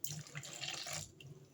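Milk and oil poured into a cake batter mixture give a steady, close liquid splashing and trickling that runs continuously and eases off near the end.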